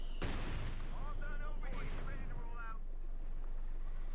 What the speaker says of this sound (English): This one though is with the 80mm mortar. Oh wait, setting up there. Opening up on the goddamn Krauts.